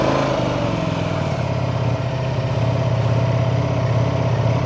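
A Ducati Panigale V4S with a V4 engine and stock exhaust runs steadily loud and close, a dense rumbling engine drone held at high revs with no voices.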